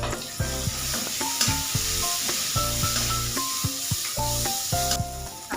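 Onion fries in a pan with ginger-garlic paste, a steady sizzle with occasional stirring scrapes, heard beneath prominent background music.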